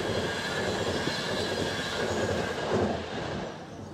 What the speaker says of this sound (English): So I think this is my train